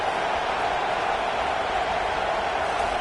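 A stadium crowd at a college football game roars steadily through a third-down play, a dense, continuous wash of cheering held at an even level throughout.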